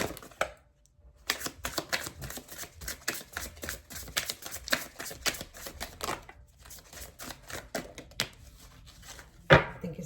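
Close, rapid riffling and clacking of oracle cards being shuffled in several bursts, with brief pauses between rounds and a louder snap near the end.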